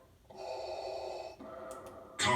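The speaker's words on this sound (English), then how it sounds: "So, I can play with the breathing" A voice changer makes a mechanical armor breathing effect, one long hissing inhale followed by a rasping exhale, close and fairly quiet, with a louder burst at the end.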